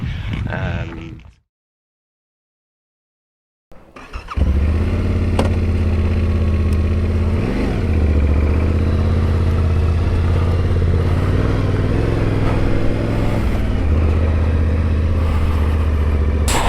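A Yamaha Tenere 700 motorcycle, heard as a brief opening sound and then a short silence, followed by a steady, loud engine drone with wind noise while riding and no clear talk.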